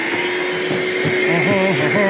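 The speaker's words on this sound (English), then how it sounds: "Now you don't need to use the crevice tool, you can take that off for more suction." A vacuum cleaner runs steadily and loudly throughout, its constant motor whine with a shifting pitch as airflow changes at the nozzle.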